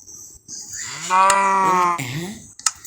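A Minecraft cow moos loudly in one long, drawn-out low call, followed by a shorter second moo and a brief click at the end.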